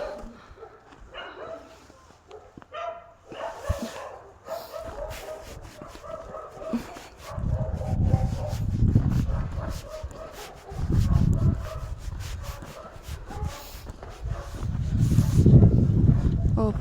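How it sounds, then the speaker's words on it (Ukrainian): Dogs bark and yip several times, fairly close, mixed with whimpering and louder bursts toward the end, over outdoor background noise. "Тут мої милі друзі собаки."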